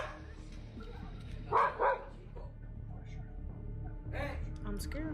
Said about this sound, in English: As the shaking continues, the dog grows even more distressed